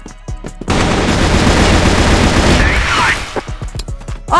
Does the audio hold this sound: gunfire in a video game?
yes